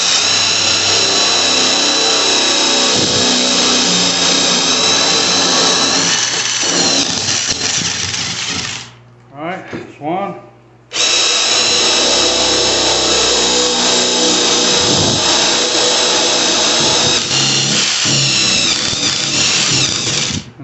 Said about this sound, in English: I'm gonna drill